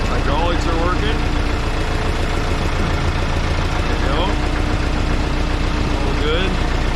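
A Case 188D tractor diesel engine idling steadily with a low, continuous rumble, up close and loud, while voices talk over it.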